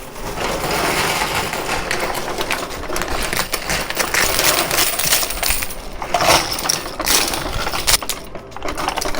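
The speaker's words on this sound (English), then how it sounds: "the tower on the pusher that's losing chips at the base of it" Coins and chips clatter and drop continuously in a high limit casino coin pusher machine, a dense loud metallic jingle with steady rapid rattles throughout, set against busy casino background noise.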